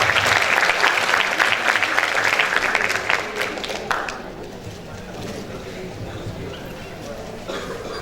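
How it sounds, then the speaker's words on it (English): An audience at a corporate talk session claps in a full, dense burst that tapers off after about four seconds into a quieter room with lingering scattered claps and faint voices. "Please give applause."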